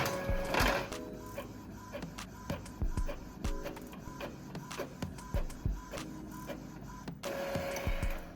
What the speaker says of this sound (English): once we sent it to the printer, all 5 of the hearts printed